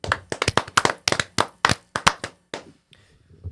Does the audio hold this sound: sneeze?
no